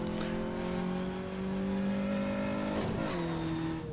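A race car in the rFactor racing game accelerating hard, its engine note climbing steadily before a sharp gear change near the end, loud and close with no talking.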